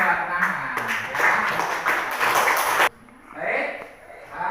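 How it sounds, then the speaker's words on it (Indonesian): A classroom of students claps for a classmate, a burst of quick, uneven hand claps lasting a few seconds before stopping abruptly, followed by a teacher's voice. "Tepuk tangan buat Rahmat."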